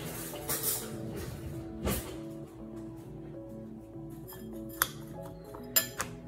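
Metal spoon tapping and clinking against a bowl of muesli, a few sharp, bright clinks spread out over a quiet room with a faint background hum.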